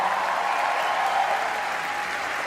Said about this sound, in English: Round of applause for Ranveer Arjun